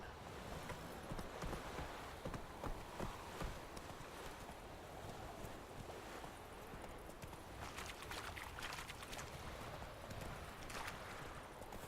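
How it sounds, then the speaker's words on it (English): Horse hooves clip-clop steadily while riding in The Witcher 3: Wild Hunt on Xbox One, a continuous rhythmic patter of in-game footfalls over ambient wind, heard alone at a moderate level throughout. "riding this horse is horrendous"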